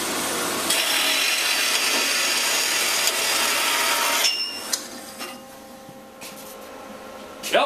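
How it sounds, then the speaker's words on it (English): A new saw cuts through rod with a loud, continuous grinding rasp for about four seconds, then stops, leaving quieter clicks and a brief whirr afterward. "And with this new saw, you know how easy that is."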